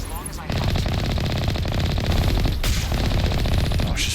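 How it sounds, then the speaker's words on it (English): Sustained rapid automatic gunfire pours out of a building in the video game Mass Effect, a dense, loud, continuous rattle with no gaps for the whole stretch. "Look at those gunshots just coming out of that building."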